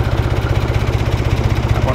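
A tractor engine idling with a suspended disc harrow mounted on its three-point hitch, a steady, pulsing low rumble, close and continuous.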